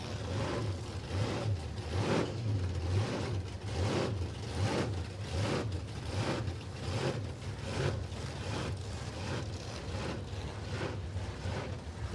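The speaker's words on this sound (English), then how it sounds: "Got that lumpy idle." A supercharged small block V8 in a one-ton drag truck at a drag strip idles with a steady, lumpy, loping rumble, heard close and alone for several seconds.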